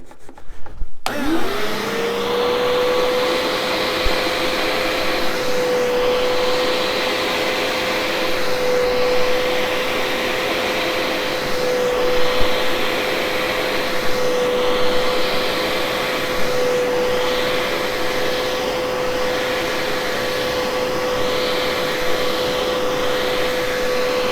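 A Bissell SpotClean ProHeat portable carpet cleaner starts up and runs steadily, a loud, continuous motor whine with a rising pitch at the start, holding constant throughout with no talking.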